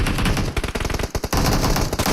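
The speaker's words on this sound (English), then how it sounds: "And his teammates are shooting up to help out Goated." Rapid bursts of automatic gunfire from teammates in the mobile battle royale game PUBG Mobile during a competitive scrim, loud dense volleys with brief choppy gaps mid-way, then sustained shooting again.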